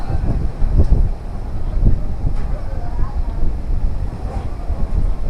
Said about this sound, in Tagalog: grabe yung hangin ah humuhugong na yung hangin